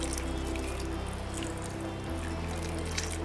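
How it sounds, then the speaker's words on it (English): Water poured onto soil in a potted plant with a freshly planted sapling, soft squishing drips and trickles, close and fairly quiet, with no talking. "Now water the pot."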